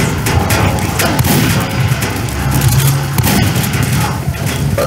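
Dense, loud gunfire and explosions from the video game Team Fortress 2 in a zombie mode, with rapid overlapping shots and booms running continuously.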